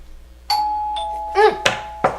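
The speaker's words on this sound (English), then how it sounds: "Doorbell." A doorbell rings with a clear electronic chime of a few tones, followed by brief voices speaking close by.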